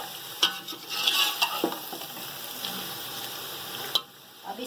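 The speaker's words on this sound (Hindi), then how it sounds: "फ्राई करते हुए मसालों के साथ ये देखें हमारा जैसे गोश्त फ्राई हो चुका है माशाल्लाह से।" Chicken meat frying with spices in a pot for white chicken biryani; a steady sizzle with scraping stirring strokes, close, ending in a sudden drop to quiet.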